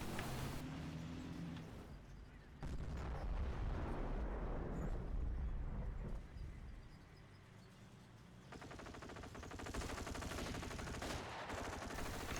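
Artillery airbursts in a World War II strategy game boom in a dense, rolling barrage, with distant crackling gunfire running under the blasts the whole time and no voices.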